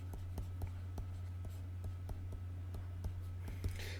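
Pen or pencil writing on paper while working a calculus problem, a soft, steady run of small scratchy strokes with light regular ticks, close and quiet over a low background hum.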